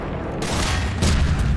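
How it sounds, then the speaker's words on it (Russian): An explosion in the Garry's Mod video game: a loud, sustained roaring blast that fills the whole clip, growing heavier partway through, with no talk over it. "вот это взрыв"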